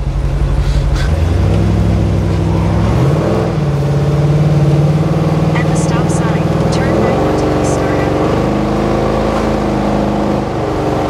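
A Ford F150 pickup with a swapped Godzilla V8 engine drives slowly, its loud mid-pitched engine droning and stepping up in revs several times, with people talking inside over it.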